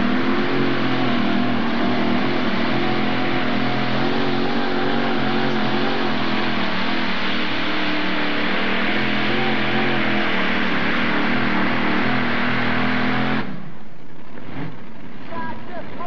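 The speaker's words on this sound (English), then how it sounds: "All three blown Chevrolets coming to life." Three supercharged Chevrolet engines in pulling tractors roar together at a tractor pull, a loud, sustained revving wall of engine noise for about thirteen seconds before cutting off sharply, with faint crowd sounds after.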